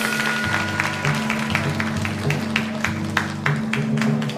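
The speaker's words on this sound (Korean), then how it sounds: "다시 한번 큰 박수 보내주십시오" Scattered clapping from a small crowd at a PUBG esports tournament final runs throughout, with distinct individual claps over a steady background hum.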